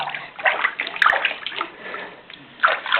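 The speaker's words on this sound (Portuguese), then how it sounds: "E lavar o cabelo. A cabecinha do menino." Bath water sloshes and splashes in a tub while a young boy's hair is washed, with soft irregular splashes and pours, close by, a couple of sharper splashes standing out.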